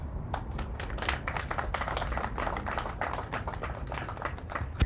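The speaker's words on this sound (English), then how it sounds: "Give her a round of applause, please." An audience at a Gold Star Mothers WWI homecoming centennial commemoration gives a sustained round of applause, with crisp, rapid, even claps continuing for several seconds at moderate volume.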